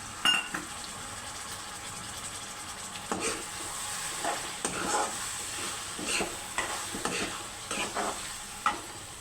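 Tomato pieces sizzle softly in a pan, with intermittent stirring scrapes and clinks over a steady low frying hiss.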